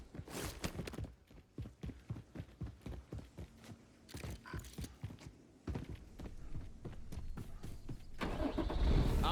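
Vehicle engine in the Warzone video game cranking over with rapid mechanical clatter, then catching and revving into a steady, louder idle near the end, heard alone and close.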